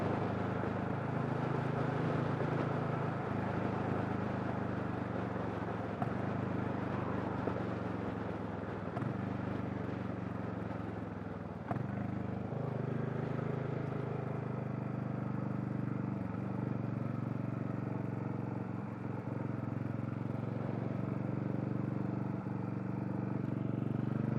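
A Royal Enfield J-series motorcycle with a 410 big bore upgrade pulls uphill after a roundabout, its engine a steady, muffled drone with gear changes and wind noise, heard from the rider's position without talk.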